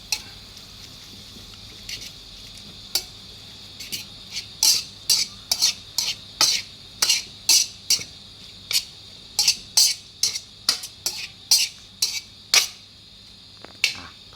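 Minced pork for stir-fried basil pork with Chinese kale is tossed in a pan, with repeated crisp spatula clacks and scrapes in quick, uneven bursts over a low, steady sizzle and no talking.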